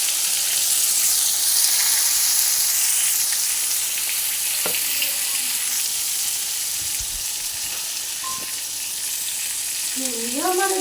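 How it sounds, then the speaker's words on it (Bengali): Eggplant pieces fry in hot oil in a home kitchen, giving a steady, loud, close sizzle with occasional soft clinks and spatters throughout. "ওই তেলের মধ্যে বেগুনগুলো দিয়ে দিলাম। বেগুনগুলো ভেজে তুলে নেব।"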